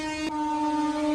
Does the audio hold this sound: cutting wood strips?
no